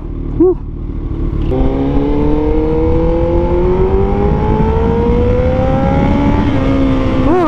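A Kawasaki ZX14R motorcycle fitted with a new exhaust revs up hard and holds a loud, rising engine note for several seconds, with a quick blip of the throttle at the start and again at the end.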